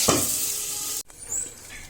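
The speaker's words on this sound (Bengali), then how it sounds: "এই যে আমার মাংসটা ভাজা শেষ" Meat frying in oil in a pan gives a loud, dense sizzle for about a second, then cuts off sharply and continues as a quieter crackle with light pan and utensil clinks.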